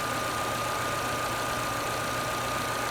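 A Jeep Renegade engine idles steadily under a continuous, even hum with no audible start, tested for alternator output, running alone without talk.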